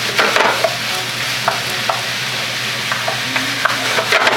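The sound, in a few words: cubed pork browning in a hot pan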